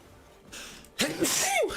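A person sneezes once, a sharp, close burst with a breathy tail, coming after a short stretch of quiet room noise.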